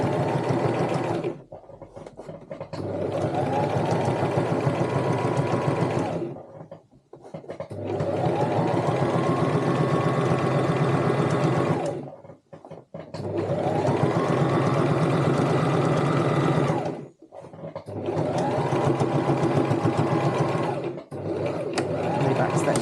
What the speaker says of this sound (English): Backstitch again at the end.